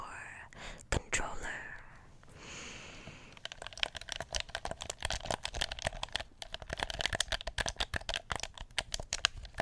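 Quick, dense plastic clicks from PlayStation 4 controller buttons patter in rapid irregular bursts after a brief whisper, close and soft.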